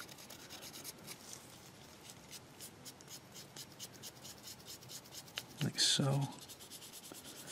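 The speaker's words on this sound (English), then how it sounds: "Don't rub too hard, but rub hard enough that you're going to remove the wash" Raised details of a Tamiya 1/12 Valentino Rossi high-speed riding figure rubbed to lift off a grimy starship filth wash, a soft close scratching and rasping that runs faintly under a voice, with a brief louder rub near the end.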